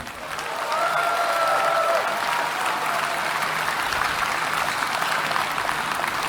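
Steady, loud applause from a crowd, swelling quickly at the start and continuing evenly throughout without any speech.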